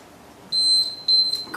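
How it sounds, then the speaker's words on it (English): Two short, high-pitched electronic beeps from a workout interval timer, evenly spaced and clear over a quiet background. "When it beeps, we get 10 seconds of rest."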